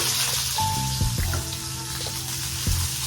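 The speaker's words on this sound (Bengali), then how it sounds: "আর তেলটা গরম হয়ে গেছে। একটু পেঁয়াজ দিচ্ছি" Chopped onion frying in hot oil with whole cumin seeds, a crackling sizzle close up over a low tonal hum, with a few brief knocks; no talking.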